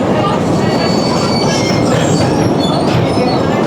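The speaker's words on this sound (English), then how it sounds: "Reversing our way back." Train carriages being pushed in reverse by a locomotive on a heritage line near Kawakawa, a loud, dense rolling rumble with squealing wheels and rattling throughout, close by.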